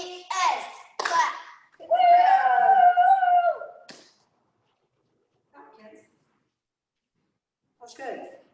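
Cheerleaders in a virtual cheer clinic deliver sharp, close claps mixed with shouted chant words, a few loud hand strikes followed by a sustained yell, then quiet with a couple of softer later sounds.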